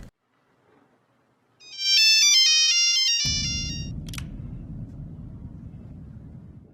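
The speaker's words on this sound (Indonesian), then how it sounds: "Jason berusaha kembali menghubungi Katie yang masih belum ditemukan" A mobile phone ringtone plays a bright electronic melody of stepped tones, loud and clear, followed by a low rumbling background as the ringing fades.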